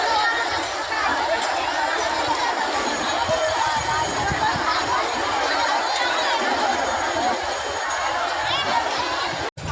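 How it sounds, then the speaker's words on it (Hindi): Dense crowd of devotees at a Ganga river ghat in Patna on Kartik Purnima, a steady loud hubbub of overlapping chatter and distant voices throughout, with no single voice standing out. "खाचकल्ला घाट पर काफी भीड़ नजर आई"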